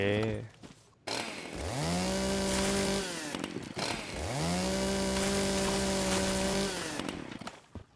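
Chainsaw cutting wood in Once Human in two long revving passes, the motor whining up in pitch and holding steady, loud and close.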